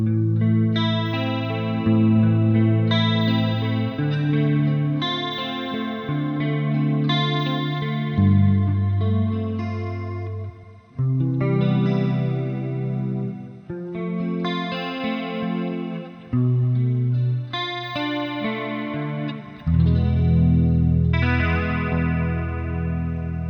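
Electric guitar with a tone from a $64 multi-effects pedal with amp and cab simulation, chorus, a little delay and plate reverb, playing sustained, lush chords and bluesy lead lines continuously for the whole stretch, with no talking.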